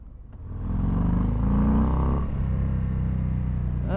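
Harley-Davidson FXDR 114 motorcycle engine pulling hard under throttle, a loud, close, continuous rumble that swells and then holds steady through the run.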